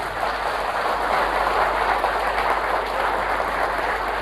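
Dense, steady applause from an audience at a product presentation fills the space, loud and continuous without a break.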